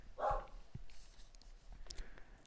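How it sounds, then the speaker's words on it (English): A single dog bark sounds close and clear near the start, followed by faint thuds and a quiet room, with no talking. "Sorry, that is my dog."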